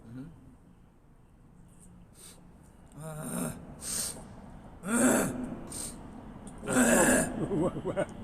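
A smoker clears their throat several times in rough, rasping bursts, with harsh throaty noises and a few voiced grunts between them.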